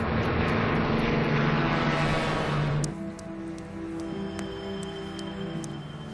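A DC-6 propeller airliner descends with a loud, steady multi-engine drone that shifts to a lower, thinner tone about halfway through. No voices are heard.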